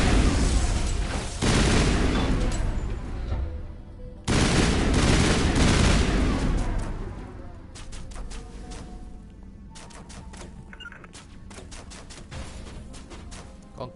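A grenade explodes in Mass Effect amid a firefight, giving a heavy, loud boom followed by a second blast, then rapid gunfire crackling in bursts that thin out into scattered shots.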